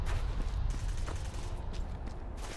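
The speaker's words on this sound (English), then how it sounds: "I'm hearing gunfire." Rapid gunfire in the post-apocalyptic survival game Fallout Frost, a dense burst of overlapping shots crackling continuously at moderate loudness for a few seconds.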